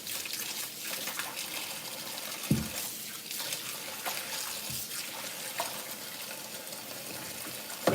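Vegetables swished around in a basin of water, giving a steady watery sloshing and trickling with a couple of soft knocks, fairly quiet and with no talking.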